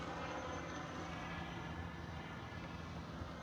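An FMS SU-27 RC model jet with twin 70mm ducted fans flies upside down overhead, giving off a continuous, steady broadband whoosh and roar that holds at moderate volume throughout.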